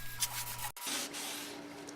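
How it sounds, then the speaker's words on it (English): A rag wipes polyurethane finish onto a heavy-duty wooden floating shelf, giving a soft, close, continuous rubbing that is broken by one sharp pause partway through, then resumes steadily. "Now it just needs to be finished with several coats of wipe-on polyurethane."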